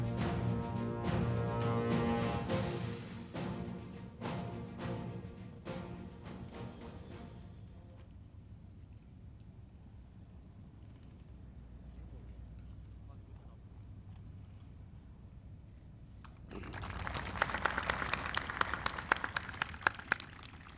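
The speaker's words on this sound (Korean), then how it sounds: "수상자들과 수상부대 그리고 유공장병들에게 힘찬 박수 보내주시기 바랍니다" An Armed Forces Day ceremony crowd applauds award winners and honoured units, a burst of dense clapping that fades into quiet outdoor ambience before a second wave of applause swells near the end.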